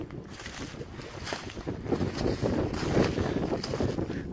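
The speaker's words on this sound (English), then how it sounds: "Sorry about the wind." Gusty wind blowing through the woods at a bush campsite, buffeting the microphone in uneven rumbling surges with faint rustling, no talking.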